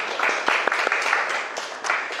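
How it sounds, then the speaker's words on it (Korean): Congregation in a church clapping to welcome a visiting pastor: a short burst of scattered hand claps with a few sharper individual slaps, moderately close and steady for about two seconds. "우리 박수로 환영하겠습니다"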